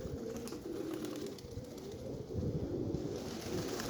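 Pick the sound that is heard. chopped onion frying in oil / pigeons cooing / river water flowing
pigeons cooing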